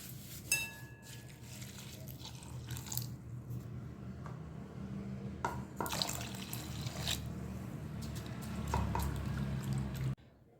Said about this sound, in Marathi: आता आपण पोहे स्वच्छ धुवून घेणार आहोत आधी.